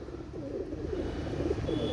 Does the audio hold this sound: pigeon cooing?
yes